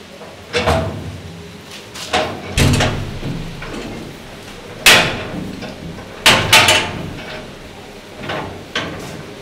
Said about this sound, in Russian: Откроешь дверь, да.